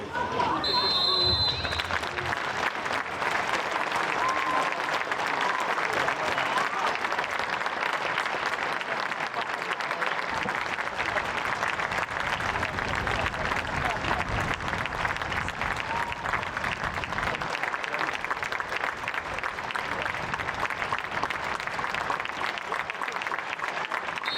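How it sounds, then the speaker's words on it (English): A football crowd gives a minute's applause before a Maidenhead United versus Dover Athletic league match, steady dense clapping sustained loud and even throughout, with faint voices mixed in. "I think we're going to have a minute's applause"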